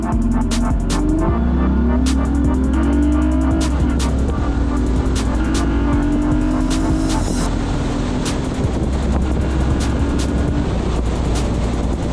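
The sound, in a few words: car accelerating during air filter test run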